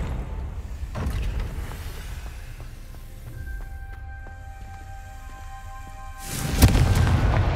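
A Confringo fire spell explodes in Hogwarts Legacy, with one deep burst early on and a louder, rumbling blast near the end, and soft tonal game music ringing in between.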